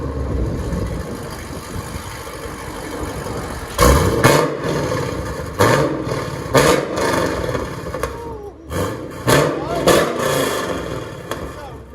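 A 2010 Chevy Camaro SS with a 6.2L LS3 V8, factory X-pipe and CORSA mufflers idles, then gives several loud, sharp revs in a row, each swelling and dropping back to a steady rumble.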